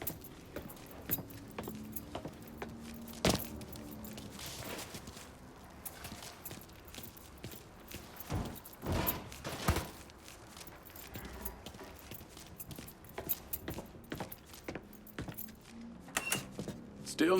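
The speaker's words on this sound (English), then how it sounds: "Lincoln, pick up the keys." Keys jangle as they are picked up in the Mafia III video game, with light metallic clinks and shuffling scattered over a quiet background of game ambience.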